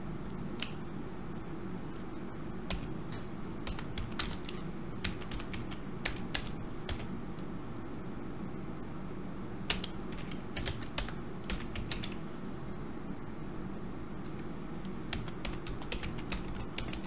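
Close computer keyboard typing while writing C++ code, irregular light key clicks in quick runs and pauses over a steady low background hum, with no voices.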